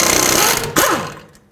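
A power tool spins out a 14mm caliper bolt on a 2005-2009 Chevy Equinox with a loud, close mechanical whir and a brief pitch drop as it winds down.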